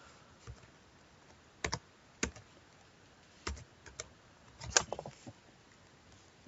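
Keys tap on a computer keyboard in sparse, irregular strokes with a brief quick flurry near the end, close and soft against a quiet background, no voice present.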